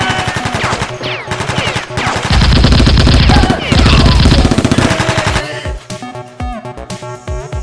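Toy Nerf guns firing during a staged fight, with rapid repeated bursts that build to dense loud volleys and then break into scattered shots, while people shout over the action.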